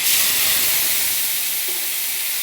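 Yardlong bean paste sizzles steadily with crushed garlic in a hot pan, a dense, even frying hiss that stays loud and close for the whole stretch with no voices.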